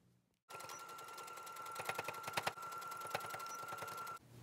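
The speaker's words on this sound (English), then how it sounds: "Line it up with your bias tape, clip it on, then sew at the first quarter line." A sewing machine stitches bias tape onto a fabric mask, running in one steady, fast whirring burst of nearly four seconds after a brief silence, with a few louder mechanical clacks partway through.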